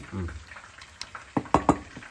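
Onions sizzle and fry in a hot pan while a spoon stirs them through a few sharp scraping strokes, close and fairly loud, no talk.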